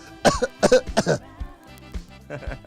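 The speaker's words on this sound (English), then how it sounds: "That's how I cough." A voice fakes a cough in several quick, rhythmic bursts, close up, followed by softer throaty sounds.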